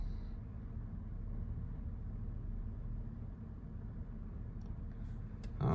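A 2005 Chevrolet Silverado Z71 with the 5.3 Vortec, running in four low, gives a steady low engine rumble that holds evenly throughout, close and without talk.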